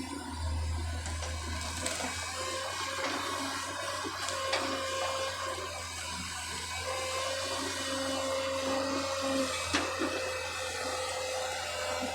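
A Caterpillar 320 excavator runs at a steady idle, a constant low mechanical drone with a faint whine and a few small clicks and knocks, heard close with no talking.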